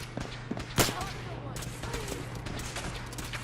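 Bursts of rapid gunfire from a Fallout 4 battle against the Brotherhood, a loud crack near the start followed by scattered shots over a low steady hum, with game voices talking through it.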